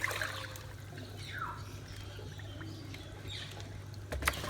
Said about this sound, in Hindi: इसमें से गंदा पानी निकाल लेंगे